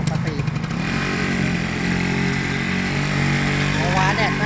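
A Honda Nova Dash 5-speed motorcycle engine runs steadily and loudly up close, with a continuous buzzing drone and some revving near the start.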